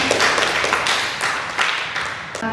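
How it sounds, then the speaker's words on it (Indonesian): Audience clapping at a children's forum speech contest in Sumba Barat Daya, a steady burst of many hands filling the room for a couple of seconds with no voices on top. "Kita berikan tepuk tangan."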